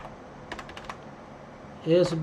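A few quick keystrokes click on a computer keyboard while a Cisco ASA firewall is being configured, then a voice starts speaking near the end.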